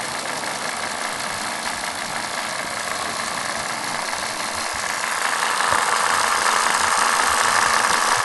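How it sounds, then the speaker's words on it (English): A Wilesco D14 model steam engine with a double-acting cylinder runs continuously, a steady rapid mechanical chuffing and hiss that grows slightly louder partway through, with no talking. "This particular steam engine has a double acting cylinder"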